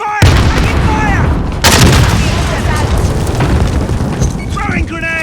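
A grenade explodes in a Call of Duty Modern Warfare team deathmatch, a heavy boom followed by gunfire and battle noise, with voices calling out over the action.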